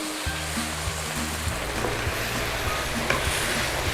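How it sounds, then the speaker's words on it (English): Beef broth poured into a simmering beef stroganoff pan with Dijon mustard, giving a steady, loud sizzling hiss with a low bubbling undertone throughout, no voices. "Give that a stir in there and add our beef broth"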